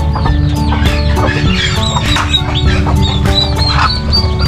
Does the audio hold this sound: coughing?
no